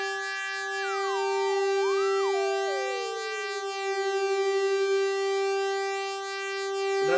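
A Moog Grandmother synthesizer sounds steady electronic tones while its filter is tuned: a sustained pure pitch holds underneath as a second tone glides and steps downward, briefly rises, then slides down to merge with it, clean and fairly quiet.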